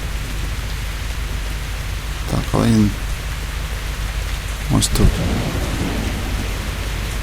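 Steady rain pours in S.T.A.L.K.E.R. video game play, a constant close hiss, while someone speaks briefly twice over it.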